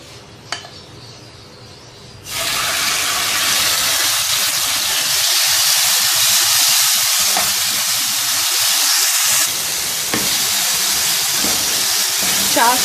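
One tablespoon of oil in a pan over medium heat bursts into a loud, steady sizzle after a quiet start and keeps hissing continuously at close range, briefly surging about two-thirds of the way through.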